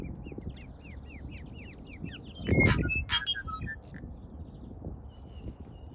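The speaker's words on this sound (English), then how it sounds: "These are New Zealand tuis." Varied New Zealand tui calls of whistles, chirps and clicks ring out over soft outdoor background noise, with one louder burst of calling in the middle.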